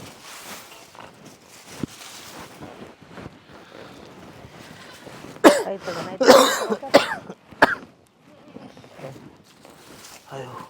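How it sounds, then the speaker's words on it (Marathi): An elderly man coughing at home near a cattle shed, a cluster of loud, harsh coughs in the middle between quieter rustling and faint voices. "तिथं खोकत येत"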